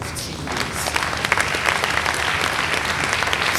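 An audience at a memorial service of songs claps loudly and steadily, a dense crowd applause that swells slightly and keeps going without pause.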